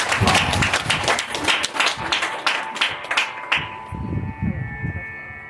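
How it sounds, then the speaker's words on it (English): Loud applause from a crowd at a Hindu temple gathering, dense clapping that fades after a few seconds into a quieter tail with a sustained tone. "give yourself a big round of applause."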